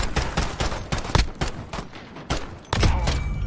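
Rapid bursts of gunfire crack out in a video game as shots pierce a wall, a dense run of sharp, loud reports with a few short gaps between volleys.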